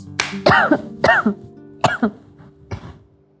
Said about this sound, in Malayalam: ഈ ചുമ ഒറിജിനലാണോ?